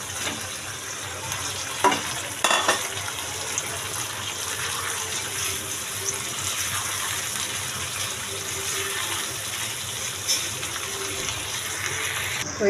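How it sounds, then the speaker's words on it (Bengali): Fried chicken pieces with tomato and soy sauce for chili chicken are stirred in a hot pan, giving a continuous sizzle with occasional sharp scrapes and clicks of the utensil. "এখন ভালো করে নেড়ে চেড়ে নেব।"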